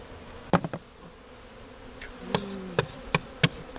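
Bees buzz around with several sharp, brief bursts of wing noise as they take off and fly near, scattered irregularly over a quiet background.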